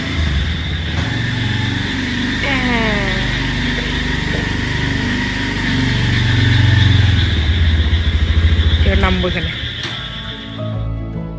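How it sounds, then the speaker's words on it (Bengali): A motorcycle rides into floodwater during the monsoon, its engine droning steadily and swelling louder midway before easing off, with people talking over it. "এই যে বাইকে উঠে গেছি আমরা এবার যাচ্ছি জলে"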